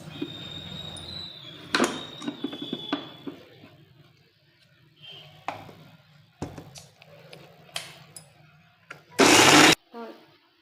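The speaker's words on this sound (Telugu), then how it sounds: "ఇప్పుడైతే కొబ్బరి, చెక్క, లవంగం, గసగసాలు మొత్తం మిక్సీ పట్టుకుందాం." A mixer grinder whirs through coconut, cinnamon, cloves, poppy seeds, garlic and ginger in one loud, short burst near the end, after scattered kitchen clatter and knocks at a quiet level.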